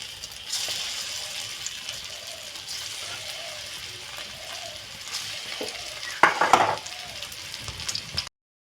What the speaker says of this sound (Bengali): আর এদিকে কড়াইতে সাদা তেল গরম করতে দিয়েছিলাম এগুলো ভাজবো বলে।